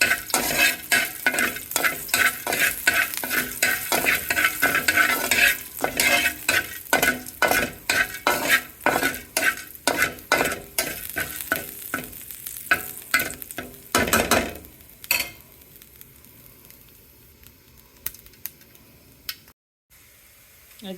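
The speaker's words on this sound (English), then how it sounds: "I'm gonna saute this for side dish." Red amaranth leaves with curry sautéing in a pan, a loud continuous sizzle broken by repeated scraping stirs of a utensil against the pan, easing toward quieter frying at the end.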